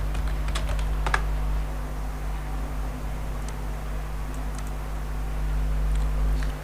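Keys clatter on a computer keyboard in quick, irregular bursts, close and moderately loud over a steady electrical hum, with brief pauses between runs of typing.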